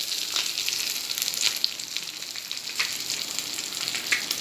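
Vangada fish fries in hot oil with a few curry leaves added, giving a steady close sizzle broken by small sharp pops and occasional stirring, with no one speaking.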